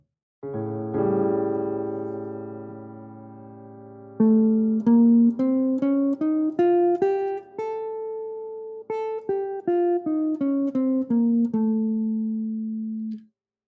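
A sustained chord rings out, then a single-note altered-scale line runs up and back down in quick, even steps, held notes at the end.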